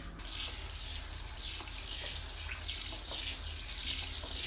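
Water is poured onto a thirsty houseplant as a steady, close stream that splashes continuously into the pot and soil, with no one speaking.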